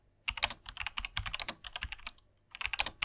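Keys clatter on an MSI Vigor GK41 Dusk gaming keyboard with linear switches, fast continuous typing in close, crisp bursts with a brief pause before a final flurry.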